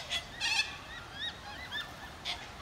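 Geese honk in a city park in Warragul, giving a few short, nasal calls in separate bursts at moderate distance over quiet outdoor background noise.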